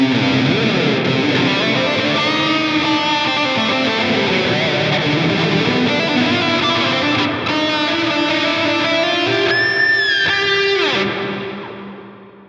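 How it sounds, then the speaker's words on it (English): Guitar played through a heavy, intense reverb on a Line 6 POD GO amp modeller, the sustained, distorted chords washing into a dense cloud before the final notes ring out and decay over the last second or two. "It's a pretty intense reverb."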